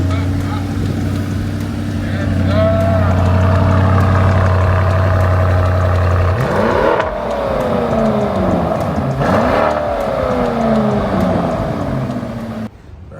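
A Lamborghini's engine runs with a loud, steady low drone that swells and shifts pitch as it revs, heard close with voices talking and cheering over it.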